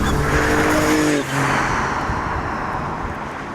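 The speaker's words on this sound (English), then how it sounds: "here's how the EcoBoost Formula Ford compares with the Audi in a straight drag race up to about 100 miles an hour" Formula Ford race car with a 1.0 L EcoBoost engine drives at speed in a drag race. Loud, sustained engine drone from a close position, with a shift in pitch partway through, under steady road and wind roar.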